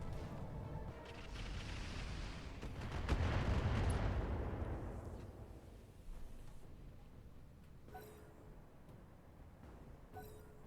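Heavy weapons fire at a turret in the BattleTech video game: a booming barrage swells into a roaring blast and then fades, followed by a few faint clicks, with no talk.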